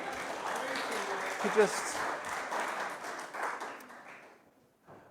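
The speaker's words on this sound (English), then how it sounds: "Doesn't it always seem like we should applaud for Scott when he's done with the announcements?" A church congregation claps together during Sunday worship, a broad steady applause that swells and then thins out toward the end, with a voice speaking over it.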